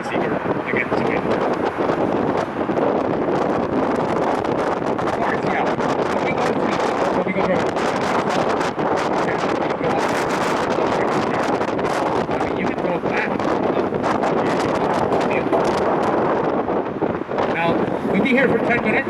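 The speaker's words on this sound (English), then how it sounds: "Going back, we're going against the wind." Strong wind roars steadily across the microphone as a boat heads upwind, a dense, continuous buffeting rush with faint water and hull noise beneath, no pauses throughout.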